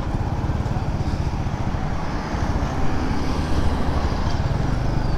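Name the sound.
Honda CD-70 motorcycle engine running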